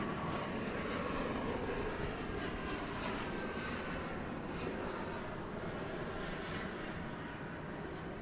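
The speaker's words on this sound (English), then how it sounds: "It's an Embraer 175. Coming in through the clouds on this Sunday morning." An Embraer 175 regional airliner landing at DFW Airport on a cloudy morning, its engines a steady broadband roar that stays loud and even throughout, with no talk.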